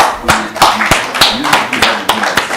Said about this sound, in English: You can hear the hand clap.